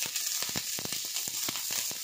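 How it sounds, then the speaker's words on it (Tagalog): Sliced onions sauté in a little hot cooking oil in a pan, a continuous close crackling sizzle dotted with sharp pops and spits. "Gisahin lang natin yung sibuyas hanggang sa lumabas ang kanyang amoy"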